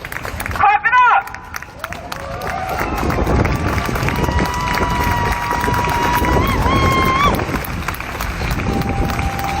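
A street protest crowd claps together loudly and continuously, with many voices cheering and calling over the steady applause, close and dense throughout.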